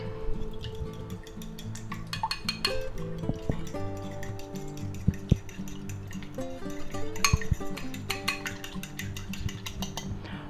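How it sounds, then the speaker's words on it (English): Whisking eggs with an ounce of milk in a bowl, a fast run of clinking taps of utensil against the dish that carries on steadily, close up and fairly loud. "Now we're going to add about an ounce of milk to our eggs here. And we're going to mix them up."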